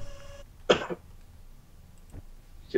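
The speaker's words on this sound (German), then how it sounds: "Ich räusper mich für uns beide." A person clears their throat once with a short, harsh burst, followed later by a fainter second rasp, close to the microphone with no talking.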